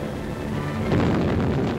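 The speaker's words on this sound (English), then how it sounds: "three others hit the Tirpitz," Bombs exploding on the German battleship Tirpitz in wartime newsreel footage, a dense rumbling blast that swells midway and rolls on in low, booming, muffled rumble.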